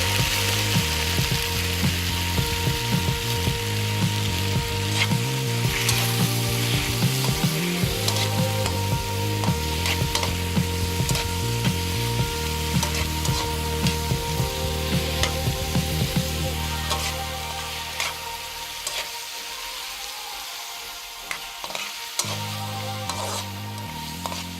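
Tomatoes sizzle and fry in a pan for a sardines and camote tops dish, a steady loud hiss with clicking scrapes and stirring clatter that eases slightly near the end.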